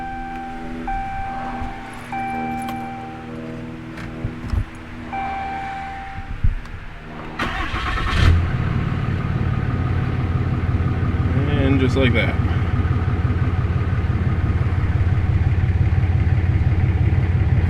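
A 2016 Cummins 3500 diesel truck engine cranks and starts midway, then settles into a loud, steady close idle; someone talks before the start, with beeping chimes and clicks early on.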